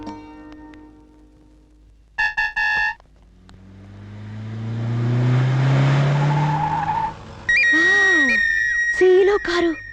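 A car drives up and passes, its engine rising in a smooth, swelling sweep over several seconds, while short electronic tones and voices come in around it.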